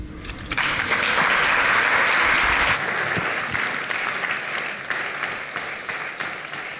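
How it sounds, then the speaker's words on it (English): An audience at an Ombudsman conference breaks into sustained applause, many hands clapping loudly across a hall, then the clapping gradually thins and softens. "Now you can applaud."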